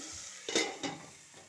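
A spoon stirs tomatoes into a chicken curry in a pan, giving a couple of quick scraping strokes close by over a faint background sizzle.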